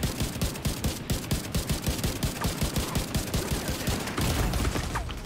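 Rapid automatic gunfire from a weapon in The Division 2, set in Warlords of New York, with steady close bursts of shots in quick rhythm throughout, loud and dominant with no talking.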